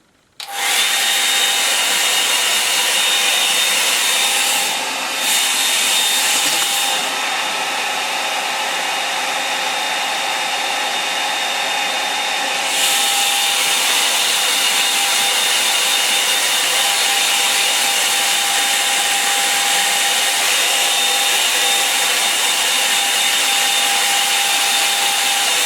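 A hair dryer runs steadily for about 25 seconds, drying an acrylic sketch of a Lake District landscape; the whir is loud, close and unbroken, with a constant high whine and no talking.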